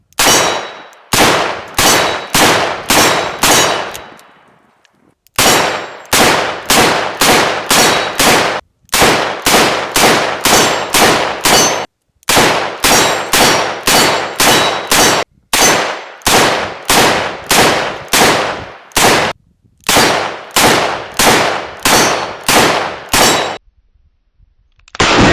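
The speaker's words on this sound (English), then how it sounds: "But here goes with the 170 grain Keith rounds." A stainless steel revolver fires 170 grain Keith rounds in loud, sharp close-range shots, fired in rapid strings of about five or six with brief pauses between cylinders.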